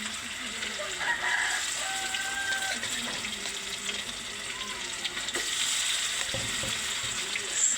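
Chicken frying in hot oil, a steady loud crackle and sizzle filling the whole stretch, with faint clinks and a voice speaking softly underneath.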